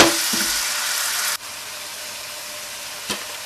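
A stuffed mushroom and minced meat tajine simmers in a little water, giving a steady hiss and sizzle that drops to a quieter bubbling hiss partway through, with a faint clink near the end.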